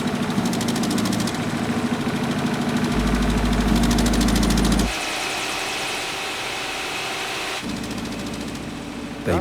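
Engine noise from a compressor station near an oil exploitation site in a forest, a loud continuous mechanical drone with a deep low hum that drops in level partway through.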